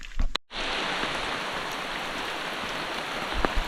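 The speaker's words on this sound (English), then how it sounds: "Well, the rain didn't hold off very long." Rain patters steadily through the Monteverde cloud forest in Costa Rica, an even, close hiss that starts abruptly after a brief silence and continues without voices.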